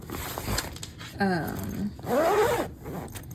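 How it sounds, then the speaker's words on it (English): A zipper on the little door of a baby's playpen is pulled in a few quick rasping strokes, close and fairly soft, with brief pauses between pulls and a hint of movement around it. "it has like a little door that zips closed and opens up."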